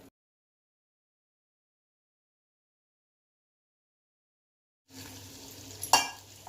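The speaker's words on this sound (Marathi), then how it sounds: "हे असं सतत हलवत राहायचं आहे, नाहीतर उतू जाऊ शकतं।" Cream is stirred in a large pot while cooking down into ghee. After a long silence, a short burst of close bubbling sizzle and spoon scraping ends with one sharper clink.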